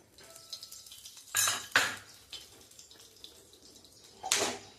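A metal griddle clanks and scrapes as it is set down on a gas stove, with a few sharp knocks spread across a quiet background.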